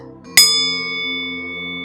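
A single bright bell struck once to close a one-minute meditation round, a sharp clear strike followed by a long, sustained ringing tone that slowly fades.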